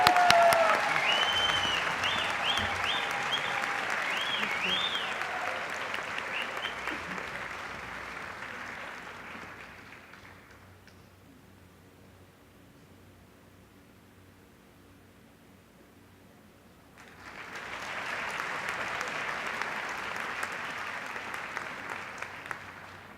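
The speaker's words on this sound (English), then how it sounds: "Please join me in applauding Yasra Goreski." Audience applause at a graduate honors convocation, a loud sustained burst of clapping that fades to near silence around the middle, then rises again into a second round of clapping.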